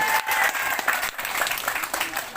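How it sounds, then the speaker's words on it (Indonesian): Crowd applause at a political gathering, dense and steady throughout, with a brief dip partway through before the clapping swells again. "tepuk tangan sekali lagi."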